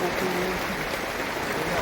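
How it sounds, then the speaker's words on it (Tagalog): Heavy rain pours down around a small hut during a sudden storm, a dense, steady rushing hiss that fills the whole short stretch with no break. "Lakas ng ulan."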